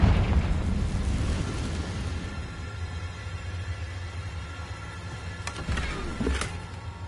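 A Confringo spell blast in Hogwarts Legacy, a loud fiery boom at the start that trails into a rumbling decay, followed by a couple of sharp crackling bursts later on.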